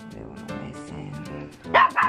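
Black poodle giving a few short barks and yips near a favourite toy indoors, with quiet whimpering sounds before two sharper close barks at the end.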